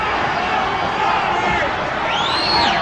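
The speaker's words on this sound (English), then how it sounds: "The crowd is shouting Banke" A dense, loud crowd roars and chants at a WBC super bantamweight championship boxing bout, Zaragoza against Banke, sustained throughout with shrill whistles and whoops rising near the end.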